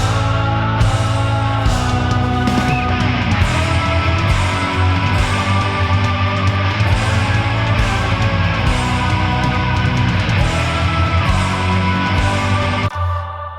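The mixed intro of a cover plays as full, dense rock music, with driving rhythm and layered instruments running steadily for about thirteen seconds before stopping abruptly.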